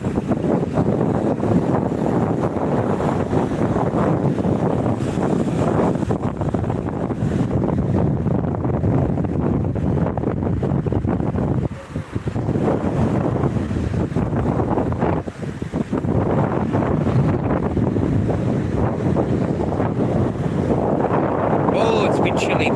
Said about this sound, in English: It is windy and cold here, man.